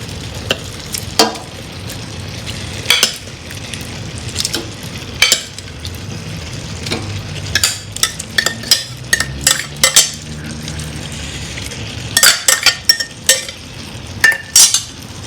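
Boiled eggs go onto a rice layer in a pot of egg biryani, with sharp utensil clinks and taps against the pan arriving in irregular bursts, close and clear with no talking.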